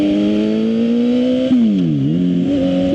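A Suzuki GSX-R 750 sport motorcycle's engine idles with a steady tone, then blips and drops in pitch before climbing again, heard close and loud with no talking.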